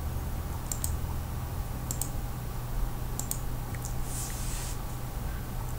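Computer mouse clicks in Sequoia audio editing software, a few sharp, quiet single and double clicks spaced apart over a faint steady room hum.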